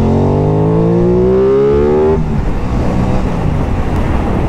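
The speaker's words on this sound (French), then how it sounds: "Allez, on accélère un tout petit coup." Aprilia Tuono 660 motorcycle from 2021 revving up in a single loud, rising engine pull for about two seconds, then dropping back to a rough, steady idle rumble close by.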